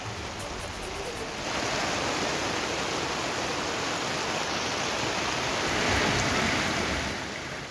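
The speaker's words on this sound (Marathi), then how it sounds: "गुहागरमध्ये मात्र सकाळपासूनच जोरदार पाऊस सुरू आहे" Heavy monsoon rain pouring in Guhagar, a dense, continuous roaring hiss that swells after the first second and holds steady and loud, with no talking.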